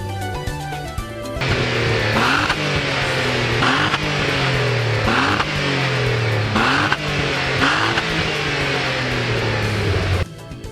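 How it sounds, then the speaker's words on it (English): Renault Clio V6 engine revving hard in a run of sharp, rising blips and drops, a loud, close, raspy mechanical howl that continues for several seconds before cutting off, no voices. "Sleek design, great speed of up to 246 kilometers an hour, and just a really great sound."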